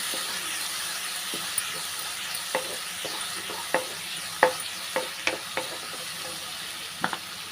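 Ginger, garlic, green chili and cinnamon sizzle steadily in a pan for a vegetable stir-fry, with a scattering of sharp utensil taps and scrapes as the spices are stirred.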